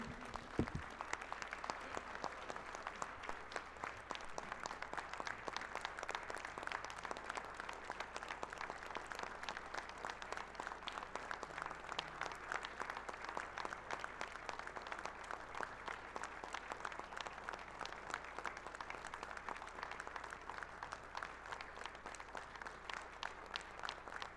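A weekly political assembly audience gives a long, steady round of applause, dense overlapping claps continuing evenly for over twenty seconds at a fairly faint, distant level.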